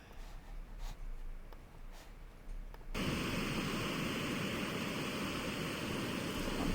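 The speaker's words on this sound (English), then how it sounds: "Look at the waves." Steady broadband rush of ocean waves breaking on a shore on a pleasant warm evening, starting abruptly and loud after a quieter, softer stretch of background noise, continuous with no talk.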